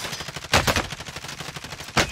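Rapid gunfire in the shooter Call of Duty Warzone crackles in repeated bursts, with two louder, nearer shots standing out over a steady stream of quicker rounds.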